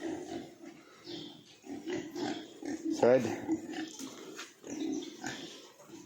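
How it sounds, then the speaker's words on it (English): Pigs grunting and snuffling in a cleaned-out pen, steady low grunts throughout with a louder squealing burst midway, heard close and mixed with someone speaking. "I'll have a quick look at the pigs."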